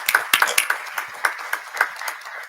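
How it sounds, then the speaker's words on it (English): Light, scattered clapping from a small audience at a university board of supervisors meeting, a handful of uneven claps over a couple of seconds, brief and fairly thin. "Give her a round of applause."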